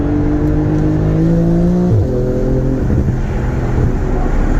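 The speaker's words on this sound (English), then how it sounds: "If you listen to the engine right now, we're basically putting through these turns." A 2022 Porsche GT2RS or GT3RS engine howls loud and close on a race track, holding a steady high note before an upshift drops the pitch and it pulls hard again.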